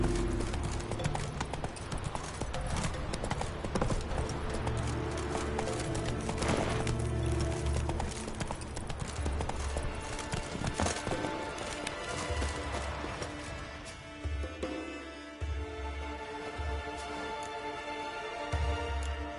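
Roach, the horse in The Witcher video game, gallops with steady, loud, close hoofbeats. The hoofbeats sit under game music and background sound, then thin out near the end as the ride slows.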